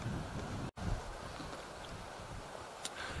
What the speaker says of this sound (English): And the wind's picked up.